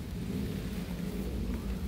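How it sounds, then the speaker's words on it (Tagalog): Steady rain falls over a vegetable garden with fruiting cucumber plants, a dense, even hiss with a low rumble throughout and no voices. "Umuulan."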